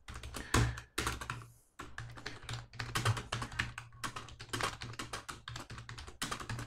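Steady, rapid typing on a computer keyboard while writing a code comment for a simple Java HTTP server, close and clear, with a brief pause just before the two-second mark and no talk.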